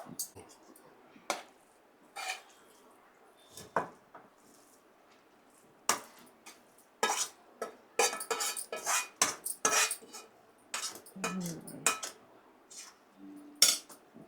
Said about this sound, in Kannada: ಇವಾಗ ಈ ತಡ್ಕಾನ ಎತ್ತಿ ಇದರಲ್ಲಿ ಹಾಕ್ಬೇಕು